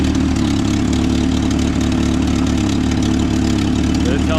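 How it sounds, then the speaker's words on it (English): A Toyota Odyssey engine with a slight exhaust leak idles nearby, a loud, steady low rumble that holds even throughout with no change in pace. "Has a slight exhaust leak."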